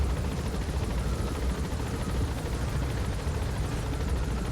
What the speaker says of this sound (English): There's an enemy helicopter patrolling in the distance, so we'll need to be careful and avoid it as we make our approach.